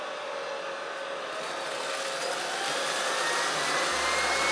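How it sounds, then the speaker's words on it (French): A Prettycare V3 robot vacuum in automatic mode sucks up dust poured on the floor, giving a steady, loud broadband whir whose pitch and intensity rise gradually, with no voices. "la puissance d'aspiration augmente automatiquement lorsqu'il y a une grosse quantité de poussière"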